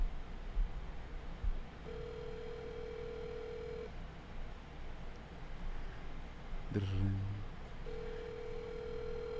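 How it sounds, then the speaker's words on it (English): A telephone call heard over a speakerphone during a radio show, steady electronic tones sounding twice with a burst of noise between, under faint background voices in the studio. "answer the phone"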